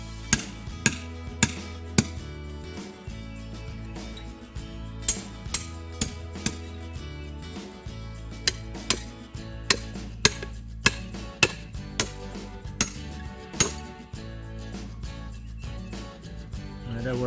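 A metal chisel strikes hard rock during a geode dig at Vickers, giving sharp, loud, close clinks in an irregular series of about a dozen hits over low background rumble.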